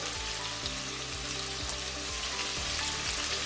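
Potatoes fry in a pan for alu posto, giving a steady soft sizzle beneath a low, repeating hum of background noise, with no speech.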